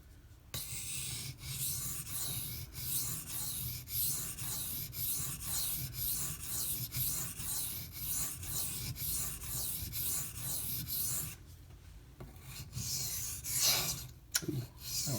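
A knife blade is stroked steadily across a Gritomatic silicon carbide sharpening stone, a rhythmic gritty rasp of repeated back-and-forth passes, close and quiet, with a brief break near the end.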